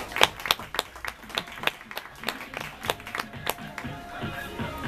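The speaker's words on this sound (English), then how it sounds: "And a round of applause for their second stop." Audience clapping in scattered, irregular bursts for a flock of marching flamingos, the claps sharp but moderate and spread across the whole stretch, with some voices mixed in.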